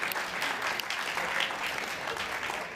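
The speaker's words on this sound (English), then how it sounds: "So first, give them a round of applause." An audience applauds steadily for the track leads standing on stage at a tech event, a dense, even wash of clapping that holds at a constant level from start to finish with no voices.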